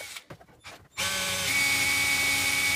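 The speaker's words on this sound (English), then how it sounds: "Next, I'm filing down the bumps on the back of the transmitter" Plastic bumps filed off the back of a DJI Phantom Vision transmitter: a few short scraping strokes, then a continuous loud grinding, buzzing tool noise close up, with no talk.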